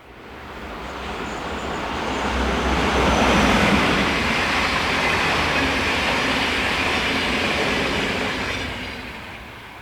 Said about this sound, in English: Another colour scheme, this time 460019 in advertising livery, working the 1333 from Bern to Zurich service.